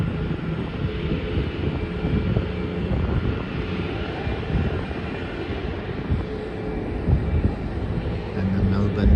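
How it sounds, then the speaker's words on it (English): A Sri Lankan Airlines airliner taxiing at Melbourne Airport gives a low, steady engine drone with some wind rumble, heard from afar, while a voice talks over it. "Looks like the Sri Lankan Airlines flight is going towards the terminal now."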